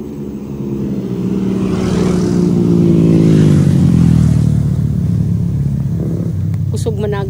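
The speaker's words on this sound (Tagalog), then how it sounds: "Kusog managan ang mga motor." Motorcycles speeding by on a road: a loud engine drone rises and swells with a pitch sweep, then fades, with a brief sharp sound at the end.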